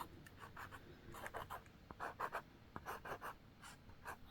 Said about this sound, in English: what you can do is just draw straight lines